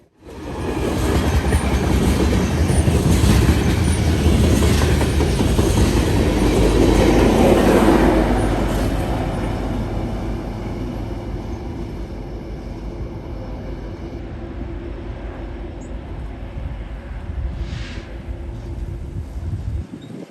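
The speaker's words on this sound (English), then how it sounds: "On the end of the train was BNSF 8567 and SD70 ACE, making this train a really cool catch today." A BNSF freight train with an SD70ACE locomotive rolls past, a loud, steady rumble of wheels and railcars with clickety-clack that fades gradually as it moves on.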